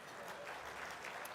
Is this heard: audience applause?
yes